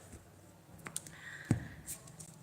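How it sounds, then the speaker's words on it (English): A deck of spiritual psychological tarot cards shuffled in one hand, giving soft close clicks and flutters, a few sharper snaps standing out against a quiet room. "And shuffling with one hand, as usual."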